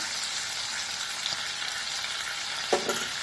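Spice paste with dried chili powder frying in a pan, a dense continuous sizzle close up with a single clunk of a spoon near the end.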